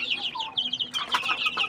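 Native (deshi) chicks around forty days old peep and cheep in quick, overlapping high calls, close by and continuous, with a slightly busier burst in the second half.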